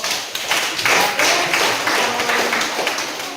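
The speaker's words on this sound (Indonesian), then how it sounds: "kita tepuk tangan dulu untuk kelompok" A crowd clapping steadily together, a dense wash of hand claps lasting a few seconds with no one talking over it.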